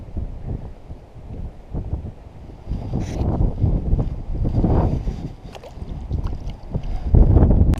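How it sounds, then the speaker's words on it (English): Gusting wind buffets the microphone on a small fishing boat out on the water for spring crappie, rumbling low and uneven, rising and easing in strong surges, with light water sloshing mixed in. "Man, this wind is nasty now."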